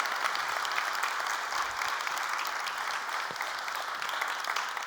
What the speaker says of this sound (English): Can I have a massive round of applause for Amy, Amelia, and Adam?